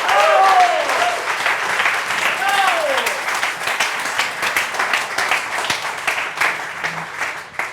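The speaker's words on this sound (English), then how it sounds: "Can we get another round of applause for that" Audience applause for a gin tasting at a talk on being futuristic, steady dense clapping running the full length with voices and whoops mixed in over it.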